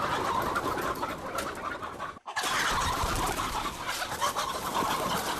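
Chickens crowded in a coop at night, clucking and squawking in a continuous agitated flurry close by, the commotion breaking off for an instant before resuming.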